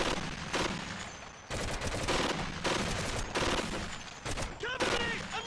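Stationary mounted gun firing in the war video game Medal of Honor: Heroes, loud sustained bursts of automatic fire broken by short pauses, with a voice shouting over parts of the barrage.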